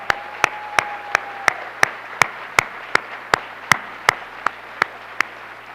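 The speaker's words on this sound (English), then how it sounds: "Let's give Nancy a round of applause." One person clapping steadily in a school board meeting room, sharp evenly spaced claps at an unhurried rhythm, fairly close, with a faint voice briefly underneath.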